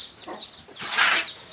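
A chicken gives a short, close cluck that rises into a louder squawk, heard alone.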